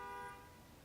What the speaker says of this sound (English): Y'all honking during my video?